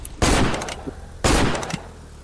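M4 rifle fire in the video game Block Spin: two loud, close bursts of rapid automatic shots separated by about a second, with a short fading tail after each.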